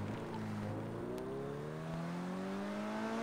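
A car engine revving in GTA, a smooth rising engine tone that climbs steadily in pitch for a few seconds, moderately loud and alone.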